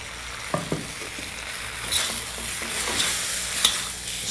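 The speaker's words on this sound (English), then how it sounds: "I think it's time to add our fried tofu at this stage." Fried tofu goes into a pan of fried noodles, with a soft steady sizzle and a few sharp clinks and scrapes of stirring, moderately quiet and without speech.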